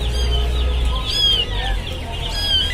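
Chickens cluck and squawk at a Peruvian market, several short rising and falling calls over low market rumble and faint background voices.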